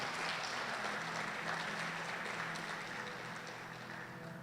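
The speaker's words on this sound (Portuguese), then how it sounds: "Uma salva de palmas para Jesus." A church youth service congregation claps steadily in sustained applause, a dense wash of hand claps that slowly fades slightly toward the end.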